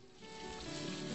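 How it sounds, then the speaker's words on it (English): Bull fillet frying in butter in a pan, a steady broadband sizzle that grows slightly louder and holds close throughout, with no talk. "And we finish frying this side."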